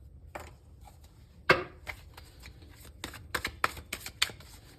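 Tarot cards are handled and shuffled at close range during a pick-a-card reading, a string of crisp riffling slaps and flicks in an uneven rhythm, some sharper than others, with no talk.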